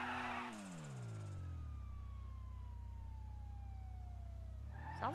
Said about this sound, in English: I'm like trying to find this cop car alarm.